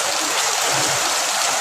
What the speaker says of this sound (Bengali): একটু বৃষ্টি কমছে, কিন্তু প্রচুর বৃষ্টি হচ্ছে আর কি।